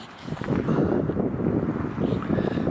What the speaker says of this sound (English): a little bit of a breeze just came up there